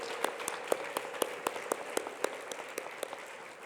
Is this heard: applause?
yes